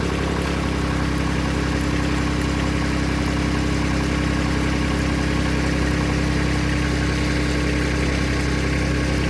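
A Kubota tractor engine runs at a steady idle while a 9000 lb winch pulls on a stubborn stump, a continuous loud mid-low drone with constant vibration throughout and no talking.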